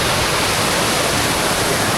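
Kondeshwar Waterfall at Kamshet in the monsoon, a steady, dense roar of falling water that fills the whole clip without a break, loud and close.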